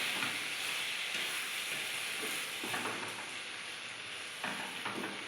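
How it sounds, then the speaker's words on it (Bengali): Fried crab is stirred into boiled taro leaves in a pot, a close continuous sizzle and hiss with soft periodic scraping of the spoon. "এবার আমি এটার ভিতরে ভেজে রাখা কাঁকড়াটা দিয়ে দেব। দিয়ে এটা একটু নাড়াচাড়া করব।"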